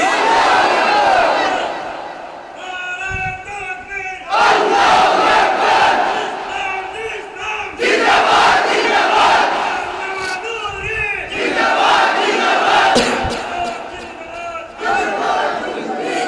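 A large outdoor crowd at a Bangladeshi religious gathering chants the takbir slogan Allahu Akbar in loud call-and-response bursts, several rhythmic waves of massed voices separated by brief pauses.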